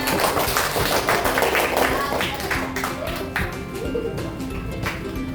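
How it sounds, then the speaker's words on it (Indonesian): Elementary students in an Indonesian coding and artificial intelligence class clap for a classmate at the teacher's request, scattered and uneven, with voices murmuring underneath throughout and the teacher speaking Indonesian. "Berikan tepuk tangan."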